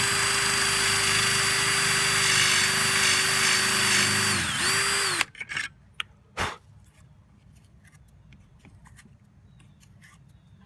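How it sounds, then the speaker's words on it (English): A power drill bores a bit through a wooden board to make a bolt hole. The motor whines steadily and loudly, dips in pitch and cuts out, then a few clunks and handling knocks follow in a quiet room. "continue that drill bit into the other side and drill past here probably about a ½ inch to accommodate the bolt"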